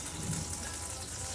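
Water gushes from a tap over a spoon being rinsed in a kitchen, a steady close hiss lasting only a moment.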